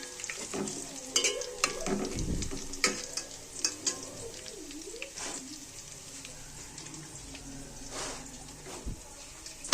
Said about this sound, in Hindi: साग को मैं देसी घी का तड़का लगा रही हूँ।